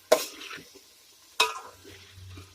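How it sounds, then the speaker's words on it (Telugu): Prawns for pulao frying in a pan and stirred twice, each stir a sharp scraping clatter over the sizzle, with a low hum underneath. "రొయ్యలు కూడా కొంచెం ఫ్రై అయ్యిందండి"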